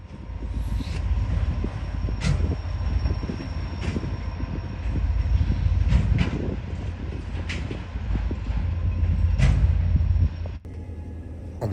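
A CSX SD40-2 diesel locomotive train in gray stealth paint passing in central Ohio, a loud steady rumble of wheels and cars with clicks on the rails and a few sharp squeals.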